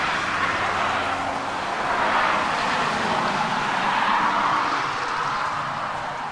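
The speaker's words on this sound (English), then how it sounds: "Which has so many cars" Cars streaming past on a busy road in front of a house, heard from the front porch as a steady, loud broadband roar that swells and fades slightly as vehicles pass, with no talking.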